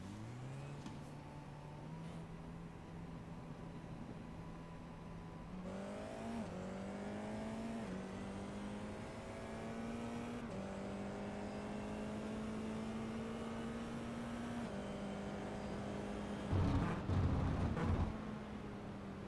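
Onboard Formula 4 race car lapping the Navarra circuit, its engine droning steadily and climbing through rising pitch sweeps with sharp gear-shift steps, loud and close throughout, with a brief harsher burst near the end.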